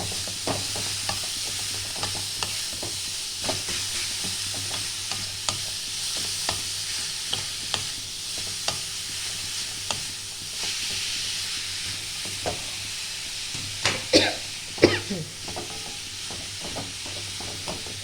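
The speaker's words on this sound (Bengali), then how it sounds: "আর এটা ভালো করে নাড়াচাড়া করতে হবে।" A vegetable mixture with beetroot is stirred in a pan on the stove for a Bengali vegetable chop, giving a steady soft sizzle with repeated spoon scrapes and a couple of louder clinks near the end, with no talk.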